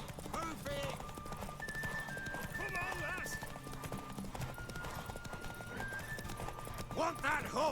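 Horse hooves clip-clop at a racing gallop during a horse race in The Witcher 3 video game, a steady rapid beat running throughout beneath game music and a voice speaking, with a whinny near the end.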